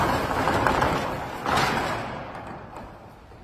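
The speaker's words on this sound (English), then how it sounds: "I'll demonstrate the roll-up door, how it works." A roll-up door on a 30x50x12 metal building rattles as it runs along its track, a loud sustained metallic rumble with a second surge midway before it fades into a canister.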